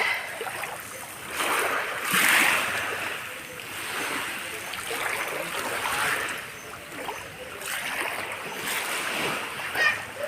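Sea waves wash onto a provincial beach in steady, rolling surges, with wind noise over the water and swells rising and falling every few seconds.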